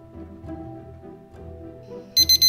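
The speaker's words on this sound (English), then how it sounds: "Set your alarm for 205 degrees Fahrenheit and wait." Low muffled rumbling gives way to a loud, high cooking-thermometer alarm beeping three times in quick succession as a baked potato reaches 205°F.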